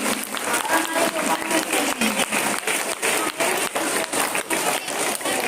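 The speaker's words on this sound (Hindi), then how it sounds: "आयान शमशेर के लिए आपने आप ही तालियां बजाइए शमशेर के लिए।" An Independence Day audience claps loudly for a child named Shamsher, continuous dense applause from many hands with some voices faintly underneath.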